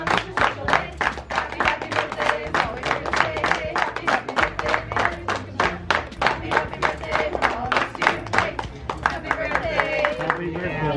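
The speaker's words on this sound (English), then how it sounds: "if you want to clap along with us, we'll sound a whole ton better" Several people clap together in a steady, even rhythm at a toy store birthday celebration, the claps sharp and close with a lively crowd around them and voices talking over the beat.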